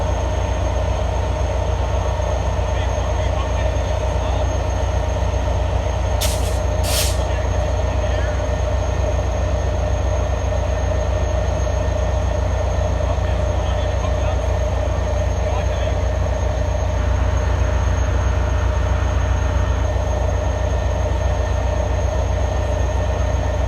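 A Caltrain train rumbles steadily nearby with a constant low roar, broken by two short sharp hisses of air brakes partway through.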